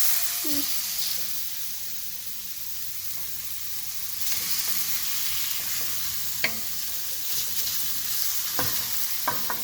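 Vegan lettuce wrap filling of mushrooms, chickpeas and black beans with ginger powder frying in a pan, a steady hissing sizzle with occasional soft scrapes and taps of a stirring utensil, no talking.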